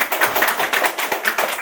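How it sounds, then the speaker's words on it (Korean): A lecture audience clapping together, a dense run of quick, close hand claps that holds steady for a couple of seconds with no talk over it. "박수 쳐주셔서"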